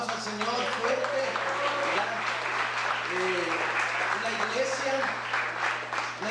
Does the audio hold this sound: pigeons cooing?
no